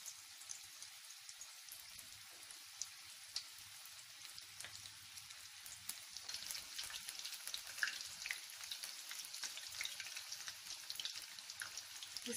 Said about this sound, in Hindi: इसको ऐसे बॉल बना के तेल में डाल दें. फिर इसको गोल्डन फ्राई होने तक फ्राई कीजिए.